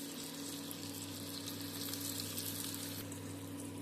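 Bean paturi wrapped in gourd leaves frying in oil tempered with black cumin and asafoetida, giving a steady, fairly quiet broadband sizzle with a low hum underneath, continuous with no talking.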